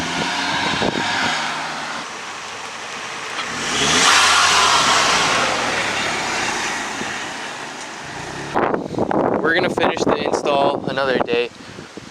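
A Hyundai Genesis Coupe 2.0T engine with a newly installed TurboXS blow-off valve rises and falls in a long rev, then sharp bursts of revving and popping follow near the end, loud and close.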